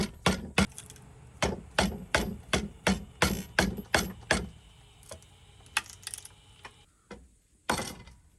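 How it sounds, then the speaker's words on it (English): Chisel struck repeatedly to remove large amounts of wood while shaping a longbow handle, a rapid run of sharp, close hammer blows that thins out into scattered lighter knocks and scraping, with no voices. "Gonna do some large mass removal with this chisel."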